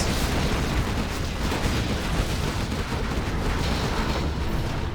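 Artillery shells from a bombardment tower in Command and Conquer Generals: Zero Hour pound away in a dense, unbroken barrage of loud blasts and rumbling booms, with no voices over it.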